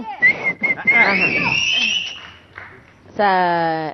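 A person whistles near the end, a short clear tone with a few rising pitch steps, following a stretch of people talking and laughing.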